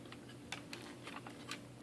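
Small plastic clicks from an Optimus Prime toy joint being angled, a few faint sharp ticks spread across a quiet moment with one louder snap at the end.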